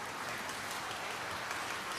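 An audience at a Sunday School session claps briefly. The dense applause is faint and distant and lasts only a couple of seconds.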